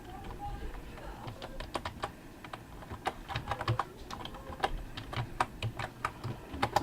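Typing a command on a computer keyboard: a steady series of quick, close clicking keystrokes with uneven rhythm and small pauses, fairly quiet, with no talk over it.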